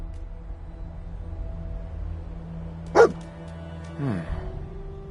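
A dog in a PS4 video game gives one sharp bark and then a shorter, softer bark or whimper a second later, both over a quiet, humming game background.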